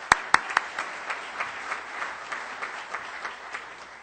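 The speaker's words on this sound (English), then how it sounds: "Let's give all our visiting guests a round of applause." An audience at a Rotary Club of Tulsa meeting applauds visiting guests: a few sharp claps ring out first, then a brief round of fairly quiet clapping tapers off.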